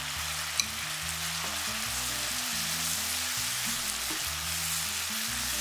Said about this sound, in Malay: Bahan kisar halus, masak sampai kering kekuningan, masuk bancuhan rempah tadi dan masak sampai kering.